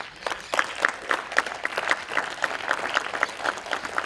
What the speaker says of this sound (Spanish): No sé si escucharon los aplausos.